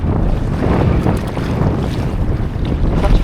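Strong wind and rough waves at the shore of Lake Rogen during a storm, a steady, loud, broadband rush of gusting air and churning water with microphone wind buffeting throughout, no voices.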